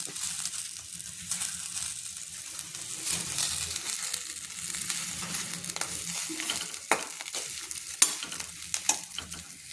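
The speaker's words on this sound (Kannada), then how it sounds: "ಇದ್ರೊಳಗೆ ಕರಿಬೇವನ್ನ ಹಾಕಿ ಕುದ್ಲಿಕ್ಕೆ ನೋಡಿರಿ ಹಿಂಗೆ" Curry leaves sizzle in hot oil for onion chutney, a steady loud frying hiss with scattered crackles and pops throughout.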